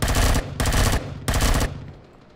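Automatic gunfire in the video game Empyrion Galactic Survival, three loud close bursts of rapid shots separated by short pauses, ending in a fading tail.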